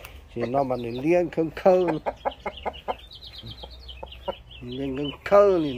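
Chickens, a fowl kept and raised for sport fighting, cluck and crow in several bursts, close and fairly loud, with someone speaking between and over the calls.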